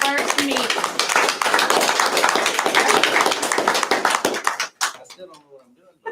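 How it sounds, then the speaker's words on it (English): Brief round of clapping from a small group at a board meeting, dense for several seconds before thinning out into a few last claps, with talk following. "can we give our new board president a round of applause for his first meeting?"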